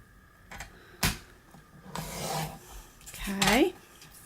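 A paper trimmer cuts a strip off card, with a few quick sliding rasps and sharp clicks of the blade and card handling, close and fairly quiet.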